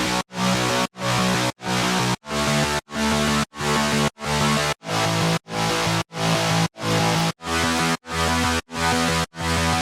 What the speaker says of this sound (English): The second mid bass is to be very gritty and rough.